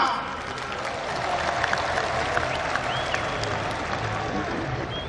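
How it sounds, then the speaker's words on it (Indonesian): A large crowd claps steadily and continuously at the opening ceremony of a national farmers' and fishermen's week in Indonesia, a dense wash of applause that holds evenly from start to finish. "Tepuk tangan semuanya."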